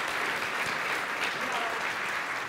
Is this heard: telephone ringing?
no